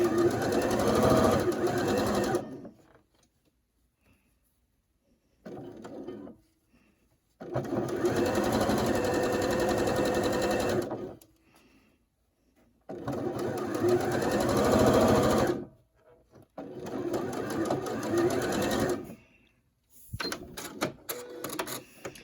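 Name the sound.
sewing machine stitching a curved quilt block seam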